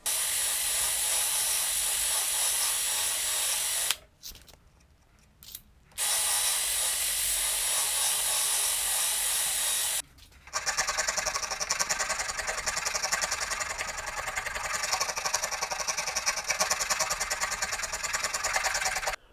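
A power drill with a bevel attachment whirs steadily at high speed on guitar neck wood, cutting out briefly twice, then continuing with a rougher, grinding tone as it works the wood.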